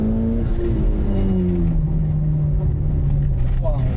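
A rally-bred Toyota GR Yaris sports car accelerates hard, its engine note rising and then settling into a steady drone. The sound is close and loud, and people talk over it inside the cabin.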